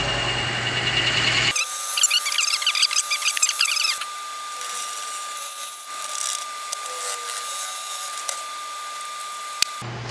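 A Forstner bit bores into wood on a lathe turning at 600 RPM, a steady high whine with a constant tone after a sudden start, continuous and fairly loud with small bursts of rasping.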